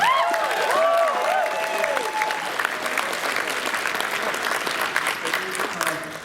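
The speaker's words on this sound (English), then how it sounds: "Please give him a round of applause." Audience applause fills a furry convention's closing ceremony, a dense, steady wash of clapping and cheering that stays loud throughout, with a few brief vocal whoops rising over it near the start.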